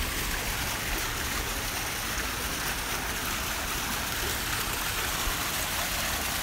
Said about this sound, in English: Like the sound of water makes it so much more, I think the word is tranquil.